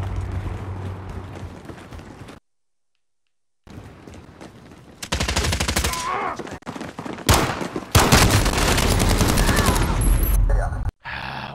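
Call of Duty: Modern Warfare gunfire arrives in loud bursts of rapid automatic shots, broken by a brief silent gap and sharp cuts between bursts, with chaotic battle noise around it.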